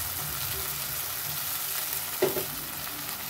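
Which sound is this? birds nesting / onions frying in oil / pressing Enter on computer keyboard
onions frying in oil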